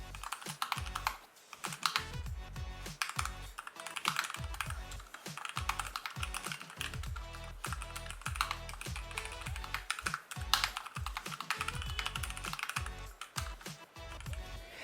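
Steady typing on an Epomaker Carbon 60 mechanical keyboard with quiet tactile switches, a quick run of muted, tactile clacks at close range with brief pauses between bursts.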